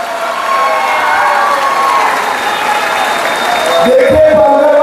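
Election rally crowd in Palghar claps and cheers for candidate Dr. Hemant Savara, a broad wash of applause that swells briefly near the end amid crowd noise.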